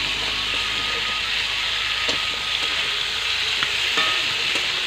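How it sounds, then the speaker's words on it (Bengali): Cauliflower florets and potato pieces seasoned with salt and turmeric fry in a pan, giving a steady close sizzle with occasional spoon scrapes and small pops throughout. "এখন আমি ফুলকপি আলুগুলো ভালো করে ভেজে নেব"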